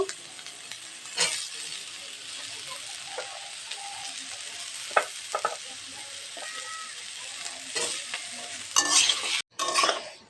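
Potatoes go into a frying pan with taro leaves and fish and are stirred, making scattered scrapes and clanks over a soft sizzle, with a burst of busier stirring near the end, close by.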